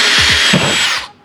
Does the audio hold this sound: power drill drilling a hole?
yes